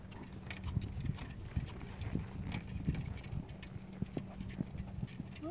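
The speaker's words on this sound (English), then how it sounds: "I'm going to change circle and move to canter" Horse hooves thud rhythmically on the ground as a pony ridden with a sword belt moves into canter, with a steady clip-clop pattern at moderate distance under faint background noise.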